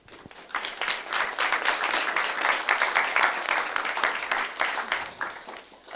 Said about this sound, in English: Applause for the Albanian community.